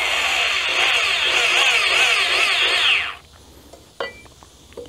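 A power drill bores straight down into timber rafter wood during a covered bridge build, whining steadily and loudly for about three seconds before cutting off, followed by quiet and a brief knock.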